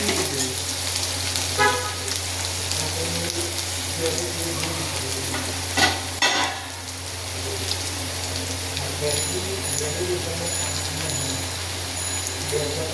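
Ivy gourd (tindora) curry fries in a pan with a steady, close sizzle over a constant low hum, and brief scrapes as a spoon stirs it around.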